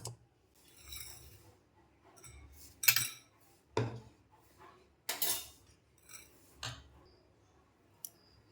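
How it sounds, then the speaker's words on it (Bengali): A whisk or spoon beats mango cake batter in a bowl, producing spaced metallic clinks and scrapes against the bowl at an uneven rhythm, with quiet gaps between strokes. "তোমরা এভাবেই কিছুক্ষণ টাইম নিয়ে থেকে ভালো করে ফেটিয়ে নেবে"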